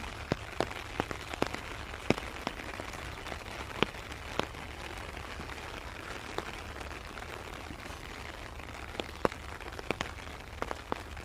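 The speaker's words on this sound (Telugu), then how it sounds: "మా సైడ్ అయితే మస్తు వర్షం పడుతుంది" Steady rain patters down on a surface, with scattered louder drops tapping irregularly throughout; no voices.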